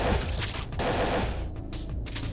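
Grenade explosions in the video game Parasite Eve II, a dense run of loud overlapping blasts and crackling bursts over about two seconds, heard through game audio without speech.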